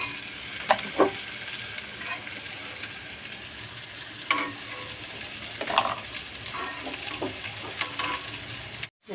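Whole urad dal frying in hot oil with a steady broad sizzle, broken by a few scattered clicks and scrapes of stirring, fairly quiet and without talk.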